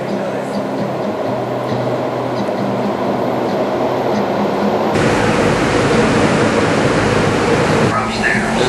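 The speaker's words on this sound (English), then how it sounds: "You know the train is coming when you feel the wind blowing." A loud, steady roar of a Metro Red Line subway train rushing into a station, the rumbling noise swelling midway and continuing throughout.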